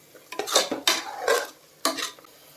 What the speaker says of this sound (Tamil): இப்போ இதையும் நல்லா கலந்து விட்டுக்கலாம்.